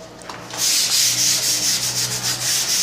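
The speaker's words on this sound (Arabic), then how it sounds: "زي ما انتم شايفين كده، نخلص بقى صنفرة" Steady abrasive sanding of dried putty on an interior wall before painting, a continuous close rasping rub that starts after a brief pause and runs on with slight rhythmic strokes.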